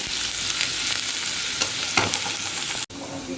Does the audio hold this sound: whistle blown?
no